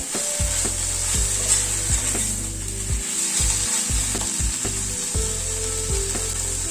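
Mustard and poppy seed paste fries in a pan over a medium gas flame while a utensil stirs it, giving steady sizzling with repeated scraping strokes throughout, close and fairly loud with no talking.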